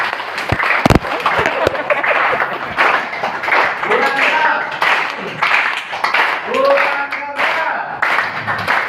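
A group clapping hard during an exercise session, sharp loud claps and thumps at first, then rougher bursts of clapping mixed with people talking and calling out.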